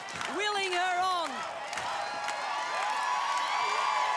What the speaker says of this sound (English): The crowd is pumped, willing her on.